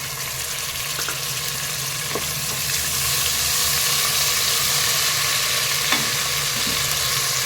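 Ginger garlic paste fries with onions in a pan, making a steady, close, hissing sizzle that grows a little louder partway through, with a few soft scrapes and knocks from stirring.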